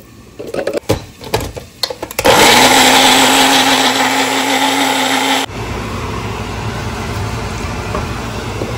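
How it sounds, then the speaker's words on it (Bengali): Soaked cashews and poppy seeds being ground into paste in a kitchen blender: after a few knocks and clatters, the motor starts with a loud steady whir, then drops to a lower, quieter running drone. "আমি এখানে এই কাজুটা আর পোস্তটা যেটা ভেজানো ছিল সেটারও পেস্ট বানিয়ে নেব।"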